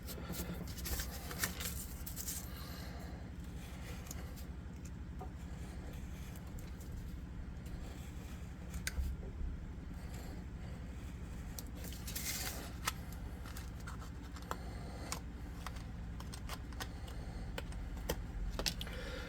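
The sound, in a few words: cutting texture into plasticky cardstock floor mat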